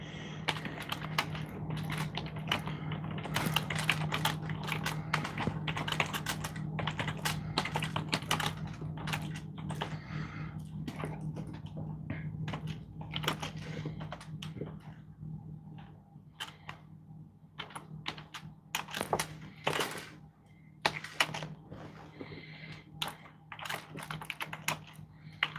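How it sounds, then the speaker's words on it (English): Rapid, uneven bursts of keystrokes come from a computer keyboard as a message is typed into a chat, clicking close and clear with short pauses between runs, over a faint steady hum. "Let me write it in the chat."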